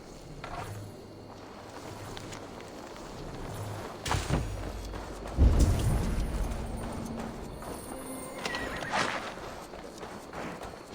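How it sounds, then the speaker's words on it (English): Hooves clop and thud at an uneven pace while a horse snorts and whinnies in Assassin's Creed Valhala, with heavier thumps midway over a low ambient rumble. "Now to deliver Magni his horse."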